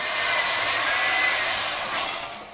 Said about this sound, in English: Is directing crews to drill into concrete from a unit's balcony column